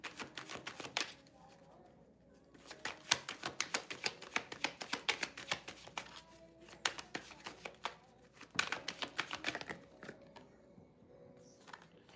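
Tarot cards shuffled by hand during a live reading, a long run of quick papery riffles and soft slaps in close bursts, pausing briefly near the middle and again toward the end, with no talk over it.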